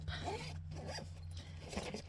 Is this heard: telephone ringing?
no